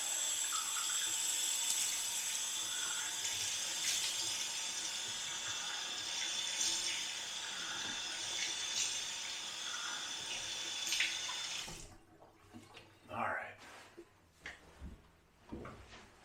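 A bathroom sink tap runs cold water in a steady hiss, then cuts off, followed by a few splashes and drips as water is splashed on a face.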